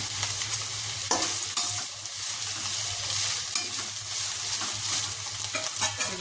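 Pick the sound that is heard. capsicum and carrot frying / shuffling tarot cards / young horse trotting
capsicum and carrot frying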